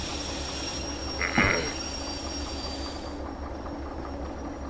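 Freight train rolling in the Derail Valley railway game, a steady low rumble of wagons with a brief, bright wheel squeal partway through, no talking.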